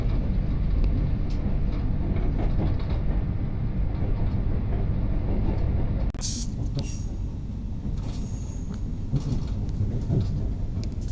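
A passenger train on the Aberdeen to Penzance route runs along with a steady low rumble and rattle of wheels and carriage, heard from inside, with a brief sharper hiss partway through.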